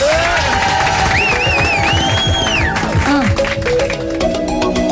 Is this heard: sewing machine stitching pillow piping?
no